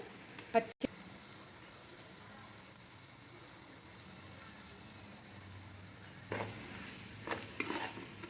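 Turmeric and masala paste frying in a pan for fish gravy, a soft steady sizzle with occasional spoon stirs, briefly louder near the end.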